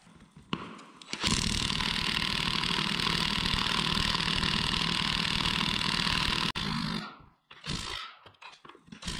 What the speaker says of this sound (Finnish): tämä pulttipyssy on oikeasti laiska